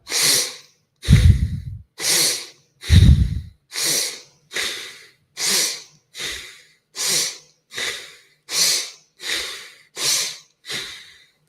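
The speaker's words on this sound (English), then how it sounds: "Big, deep breaths in and out. We're forcing the air in and we're forcing the air out." Forceful breathwork breaths: about a dozen loud, rhythmic in-and-out rushes of air close to the mic, evenly spaced, the first few deeper and heavier, with no talking.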